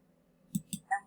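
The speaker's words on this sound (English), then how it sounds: "Couldn't believe what I was hearing, so I slammed the phone down onto the cradle." A telephone handset slammed down onto its cradle: two quick, hard clunks close together, followed by a few brief higher tones, over a faint low hum.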